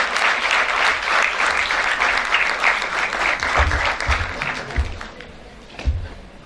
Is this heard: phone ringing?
no